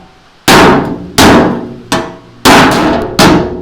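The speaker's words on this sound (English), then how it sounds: "Got a big old hammer. Just have to start pecking on it here a little bit." A big hammer pecks at a metal part of a vintage Wizard 8 mower: five loud, ringing blows at uneven intervals, each clang sharp and fading slowly before the next strike.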